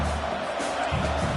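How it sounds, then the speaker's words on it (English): A football stadium crowd cheers in a video game, a steady, full-throated roar of massed voices that holds loud and constant throughout. "This crowd, full throat, splitting the eardrums"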